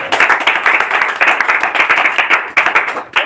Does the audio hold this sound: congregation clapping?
yes